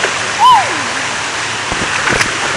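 Water at an outdoor lazy river gives off a steady rushing, splashing wash, with a louder splash burst near the end, under a child's brief high vocal sound early on.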